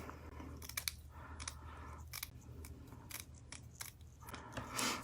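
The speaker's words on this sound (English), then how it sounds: "I took a couple strands of the burlap ribbon, just cut them apart" Scissors snipping burlap ribbon, a quick run of close, crisp cuts and crunchy fabric rustles in quiet surroundings.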